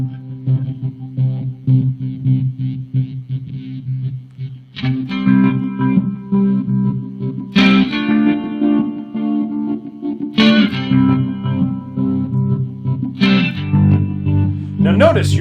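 Electric guitar played through BOSS effects pedals (SY-200 synth, RE-202, SL-2 slicer) set to a pulsating bass layer, giving dense distorted, chorused chords with throbbing low end and strong new strums about every three seconds; talk may run beneath.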